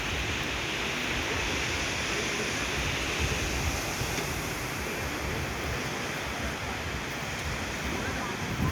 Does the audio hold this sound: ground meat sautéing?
no